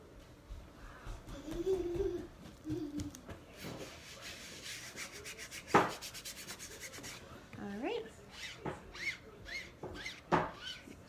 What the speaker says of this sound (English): Squeegee again.